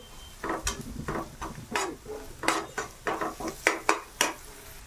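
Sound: sautéing onions in a pan for chutney

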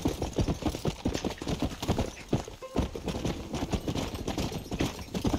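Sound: horse hooves clip-clopping, from the video game Red Dead Redemption

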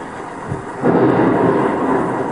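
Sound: thunder in a video game

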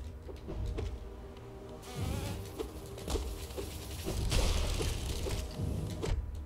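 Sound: buzzing bees from an enemy in Hollow Knight video game

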